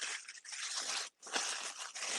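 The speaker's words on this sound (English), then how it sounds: "we're going to take this beautiful piece of tissue paper and we're going to crumple it up" Tissue paper crumpled into a wad and opened again, giving close, loud crinkling and crackling bursts with a brief pause partway through, no talk.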